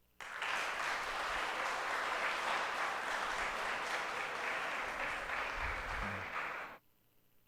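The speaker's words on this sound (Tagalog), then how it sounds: "Pumalakpak ng malakas." A church congregation at a triduum Mass claps loudly together, a dense, sustained wave of applause for about six seconds that stops abruptly, leaving near silence.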